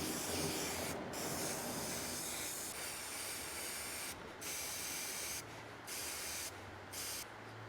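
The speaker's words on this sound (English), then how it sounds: "I'm just going to finish off getting a few more little burrs off" Burrs being removed from galvanised metal trunking for a distribution board: a faint, continuous rasping scrape that pauses briefly several times.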